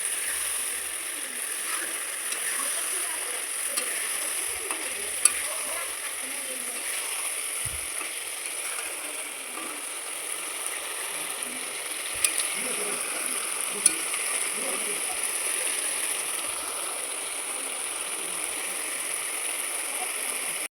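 Pre-fried potatoes added to fish curry masala in a pan, giving a constant, even frying sizzle that lasts throughout, with a few faint clinks and no talk.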